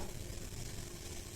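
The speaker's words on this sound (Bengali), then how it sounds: "পেঁয়াজ রসুন গুলা তেলে দিয়ে দিচ্ছি" Onion and garlic fry in hot oil, a steady, even sizzle held at a soft, close level with no pauses.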